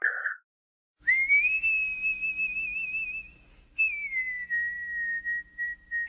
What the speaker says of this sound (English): It's got some more or less in tune whistling.